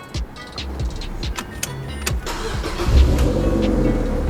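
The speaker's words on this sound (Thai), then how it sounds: "เดี๋ยวเรามาสตาร์ทฟังเสียงเครื่องกันสักหน่อยนะครับท่านผู้ชม" A Mazda MX-5 roadster engine cranks and catches, then settles into a steady idle that rumbles on, with a few clicks and thumps early on.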